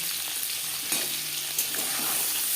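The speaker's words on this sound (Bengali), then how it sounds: "আমি একটু লালচে করেই ভাজব" Onions frying in a pan for egg curry, browning with a constant soft sizzle and a few faint stirring scrapes over a brief span, no talk.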